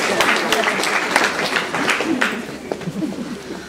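Applause from an audience at a kindergarten award ceremony during an environmental recycling exhibition opening, a dense patter of clapping that runs throughout, fairly close, with a voice speaking over it.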